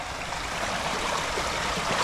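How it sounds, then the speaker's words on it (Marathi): Zenith waterfall, a hidden spot near the Tata Power site at Khopoli near Mumbai, gives a steady, loud rush of falling water. The roar fills the whole clip with no break and no voices. "इकडे समोरच धबधबा आहे"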